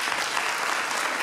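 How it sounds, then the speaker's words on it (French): Dense, steady audience applause at a school Christmas concert, a brief continuous burst of many hands clapping at once. "on les applaudit bien fort"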